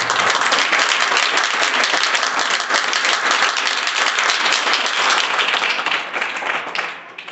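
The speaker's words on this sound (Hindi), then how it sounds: "इसलिए सदन की शुरुआत आप जोरदार तालियों के साथ करें।" An audience breaks into loud, sustained applause to open a mathematics session, dense clapping from a large crowd that holds steady before tapering off at the end.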